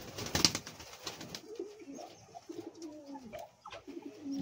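A breeding pair of Satinette pigeons coo softly nearby in low, rolling, repeated calls, with a brief rustle at the start and no talking.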